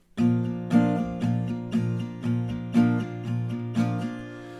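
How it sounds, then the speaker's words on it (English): Steady acoustic guitar strumming in an even down-up rhythm, about eight strokes, close and clear with no voices. "So it's basically down, up, down, up. So down, up 2 times."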